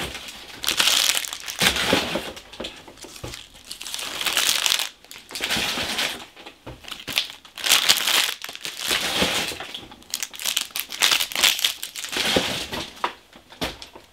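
Packaging paper being crumpled and stuffed back into a sturdy cardboard box that held a BlueBrixx Big Boy locomotive building set, close loud crinkling and crushing in repeated bursts with short pauses.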